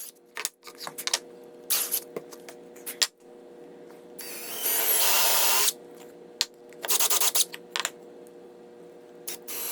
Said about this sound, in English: Here I'm just drilling holes for the copper pipe